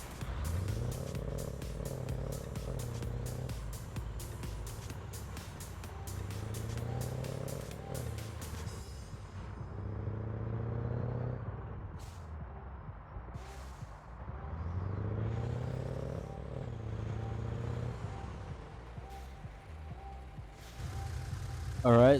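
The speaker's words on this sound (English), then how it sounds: "This is what it sounds like driving." A truck engine in the mobile game Car Parking Multiplayer drones and rises and falls in pitch as it drives, with gear-like surges and a low rumble, steady and fairly close.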